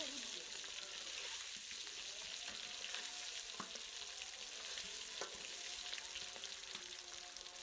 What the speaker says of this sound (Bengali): অর্থাৎ ডিম যে ভাজা, সেই ভাজার কাজ চলছে